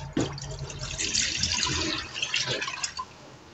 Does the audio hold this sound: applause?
no